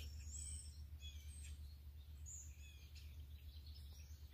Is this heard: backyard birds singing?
yes